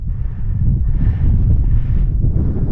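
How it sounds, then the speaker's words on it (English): Strong wind buffets the microphone on a Snowdonia mountain summit, Pen Yr Ole Wen, Wales, a loud, continuous low rumble that swells and dips in gusts without any voices. "it's too windy for the drone"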